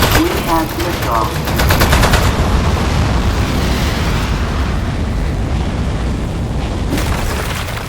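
Rapid gunfire and booming blasts from the video game Aperture Desk Job, a loud continuous barrage with dense rattling bursts and rumbling impacts that fills the whole stretch, with a little voice faintly mixed in near the start.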